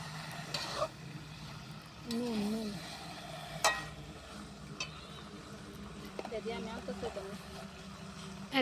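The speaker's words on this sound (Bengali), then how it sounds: "দেখো এখন হলুদ দিয়ে কষিয়ে নেওয়া হচ্ছে" Chicken sautéing with turmeric in a pan for a Bengali-style chicken kosha curry, a soft continuous sizzle with occasional spoon scrapes and stirring clinks, fairly quiet beneath a voice talking over it.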